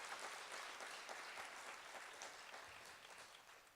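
Sustained clapping from an education summit audience for a spoken word artist, a dense even wash of hands that tapers slightly toward the end, with no voices over it.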